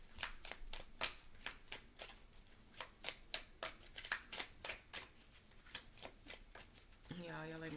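Tarot cards shuffled by hand in quick, crisp riffling strokes, a rapid steady rhythm of close slaps, ending in a brief sustained flutter.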